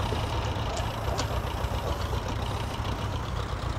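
Diesel Ferguson tractor engine idling steadily nearby, a constant low rumble with faint ticking, alone with no voices.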